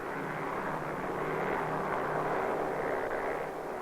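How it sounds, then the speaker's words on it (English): Special recovery aircraft flying out of Hawaii over the Pacific to snag a descending camera capsule, heard as a steady, loud engine drone that holds evenly throughout with no voices. "Special aircraft flying out of Hawaii and other Pacific bases search out the camera capsule"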